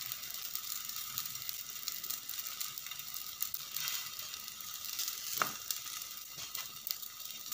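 Flatbread frying in a pan with a little oil for layered Moroccan msemen, a faint continuous sizzle with occasional soft ticks and scrapes, no talking.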